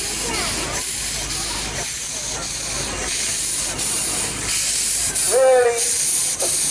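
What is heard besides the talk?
steam traction engine venting steam at a steam rally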